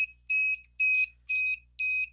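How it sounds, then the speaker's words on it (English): Electronic buzzer wired to a RobotGeek board, beeping on and off in an even rhythm, four or five sharp, steady, shrill pulses with short silent gaps, close and clear with no talk. "now the buzzer is beeping at the rate that the LED was beeping"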